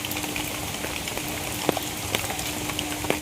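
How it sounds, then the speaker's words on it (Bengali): Steady rain falls outdoors under a darkening sky, a continuous soft hiss with scattered sharper drip taps, no voices. "এখন চারিদিকে অন্ধকার অন্ধকার আর বৃষ্টি পড়ছে"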